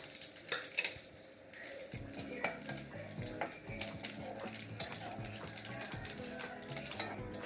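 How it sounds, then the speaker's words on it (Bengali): Whole spices, bay leaf, two dried red chillies, cinnamon, cloves, cardamom and cumin, crackle and sizzle steadily in hot oil in a village kitchen, with occasional clinks of a utensil against the pan and no talking. "দেখুন ফোড়ন দিচ্ছি একটা তেজপাতা, 2টো শুকনো লঙ্কা, একটা দারচিনি, লবঙ্গ আর এলাচ আর গোটা জিরে"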